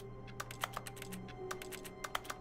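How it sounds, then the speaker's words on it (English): Keyboard clicking in The Stanley Parable video game: a quick irregular run of sharp key taps over a faint steady hum, close and fairly soft, with no talking. "it does keyboard clicking noises."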